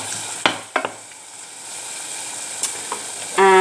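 Onion and tomato being stirred in a hot pot, a steady soft sizzle with a few sharp clanks of the spoon against the pot, close and alone.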